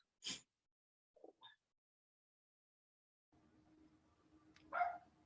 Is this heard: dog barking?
yes